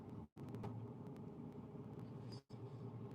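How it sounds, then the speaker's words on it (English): A car engine idles with a faulty engine light on, a faint steady low rumble with a couple of brief dropouts and no talking. "Can you hear the car?"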